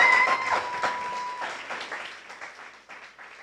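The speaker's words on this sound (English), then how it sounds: "One more round of applause because you've already started." Audience applause at a civic arts event, a dense burst of clapping that starts strong and gradually thins and fades over a few seconds, with no talking.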